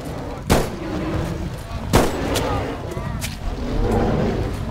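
Two loud, sharp shots from a flare gun ring out in the Bigfoot video game, about 1.5 seconds apart, each with a fast burst and a short decay, set against a constant rumbling backdrop.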